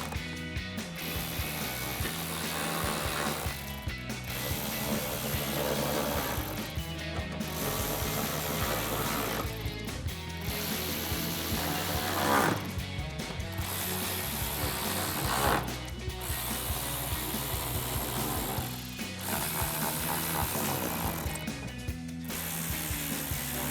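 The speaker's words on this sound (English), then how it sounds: "Then we're going to reinstall all the screws with an 8mm socket, socket extension, and a ratchet." Hand ratchet on an 8mm socket and extension driving fender liner screws on a RAM 1500: repeated loud, rapid clicking strokes in close rhythm, broken by brief pauses between screws, with faint music underneath.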